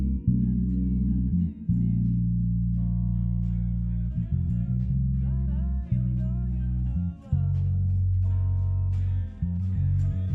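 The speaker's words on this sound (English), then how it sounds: "So now this is what the sample sounds like with no high end." Muffled, bass-heavy sample with the highs rolled off, a steady low rumble with only dull traces of melody above it, looping continuously.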